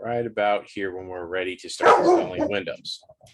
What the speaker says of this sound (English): Sorry for the dog noises in the background.